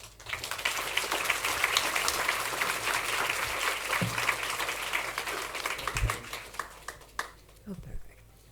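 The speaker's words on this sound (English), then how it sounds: "Please join me in welcoming Professor Rohola Baker on stage with a warm round of applause." An audience in a lecture hall gives a professor a warm welcome with sustained applause. The clapping is dense and fairly loud at first, then thins to scattered claps near the end.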